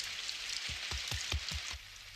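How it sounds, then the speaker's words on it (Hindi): Rain falls as a soft, steady hiss, with a run of about six dull thuds in quick succession partway through, and no one speaking. "मॉम बारिश हो रही है"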